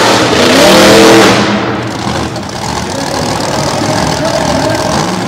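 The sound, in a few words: monster truck engine running rough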